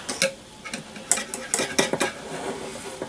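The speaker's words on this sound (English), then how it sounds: "I'll melt that butter in there" Butter being stirred and crushed with a utensil in a pan while cooking panko chicken chunks, giving close, irregular scraping and clinking taps with faint sizzle underneath.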